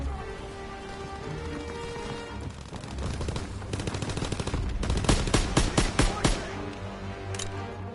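Machine gun fire in Call of Duty WWII, with sustained automatic bursts and sharp, rapid cracks that grow louder and more distinct toward the end amid battle noise.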